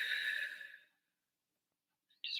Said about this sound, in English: and then just releasing the breath.